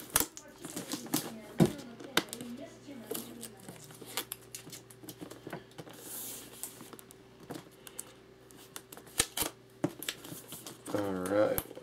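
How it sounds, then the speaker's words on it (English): Tape being peeled and pulled off a Razer bundle box during unboxing, with a series of close, irregular crackling tears and clicks and light handling noise throughout, alongside a brief murmur near the end. "Gonna go ahead and get the tape off."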